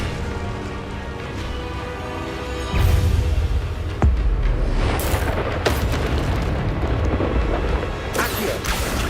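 Expelliarmus spell effect in the Hogwarts Legacy video game: loud booming bursts and sharp magical impacts over a sustained rumbling roar, with a few distinct hits spaced seconds apart.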